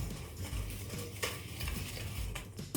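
A spoon stirs togari bele saaru, a lentil soup, in a pot, making soft scraping and clinking strokes over a low, constant bubbling sizzle.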